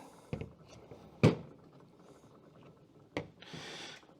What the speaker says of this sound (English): So we wind that spring up and it compresses it a bit.